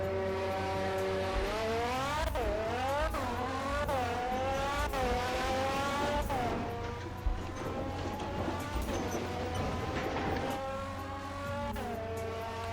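A junkyard BMW engine in a Roblox game revs hard and climbs through repeated gear shifts, each rising whine dropping sharply before building again, loud and steady with no talking.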